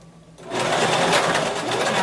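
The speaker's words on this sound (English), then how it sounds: "Go ahead and lower your needle and just start sewing, and then back stitch." A sewing machine runs a zigzag stitch with back stitching, starting after a brief quiet moment and then whirring steadily and loudly close by.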